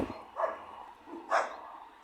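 A couple of distant barks from caged dogs ring out, separated by a pause, faint against quiet background noise.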